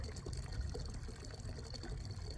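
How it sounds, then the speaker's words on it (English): Water is bailed out of a fishing boat on a lake, giving a steady splashing, pouring wash that runs continuously without pause and with no voices. "Have to keep bailing water out the boat."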